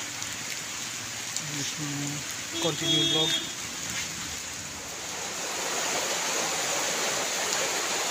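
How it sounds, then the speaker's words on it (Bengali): Heavy rain pours down near a garage, a steady broadband hiss of falling water that grows fuller toward the end. Someone talks briefly over it early on. "তো বন্ধুরা বৃষ্টি শুরু হয়ে গেছে"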